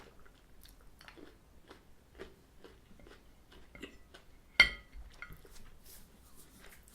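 Crunchy bites and chewing of a Nestlé Milky Bar Milk & Crunchy white chocolate bar, a string of soft close-up crunches building to one sharp loud crack partway through, then quieter chewing.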